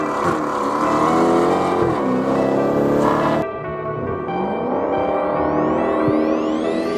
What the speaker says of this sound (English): I hopped into a 707 horsepower vehicle